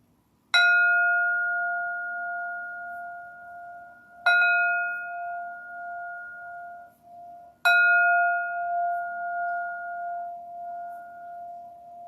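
A meditation bell struck three times during a guided meditation, each clear metallic ring decaying slowly into quiet before the next, spaced a few seconds apart, heard alone.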